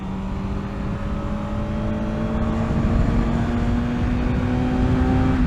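Rented Class 2A motorcycle on an open highway stretch in sixth gear, its engine note climbing steadily in pitch as it accelerates, loud and close with heavy wind rush and no talking.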